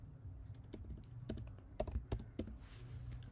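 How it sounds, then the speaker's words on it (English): Quick bursts of keystrokes on a computer keyboard, close and fairly quiet, with uneven rhythm and a few sharper taps near the end, no voices. "you can just simply come to your Google here and just type prime market terminal"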